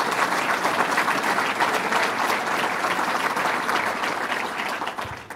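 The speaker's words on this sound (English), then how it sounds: "So let's give him a round of applause, Howard." An audience claps for a businessman being introduced at a governor's agenda event in Rochester, a dense, steady round of applause that fills the room and tapers off near the end.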